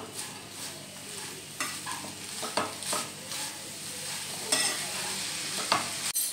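Grated coconut and jaggery scraped and stirred in a pan while making coconut burfi, with steady scraping strokes and a soft sizzle throughout, close and moderately loud, no talking.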